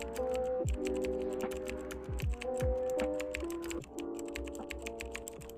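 Text is typed on a computer keyboard as steady, close clicking keystrokes over a soft background tone with no talking.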